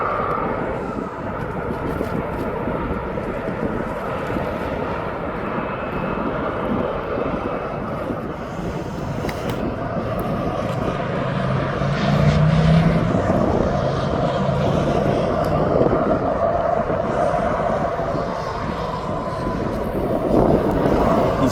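Jet airliner taking off at East Midlands Airport, a steady broad engine roar held throughout that swells slightly midway, heard from a distance with some wind buffeting.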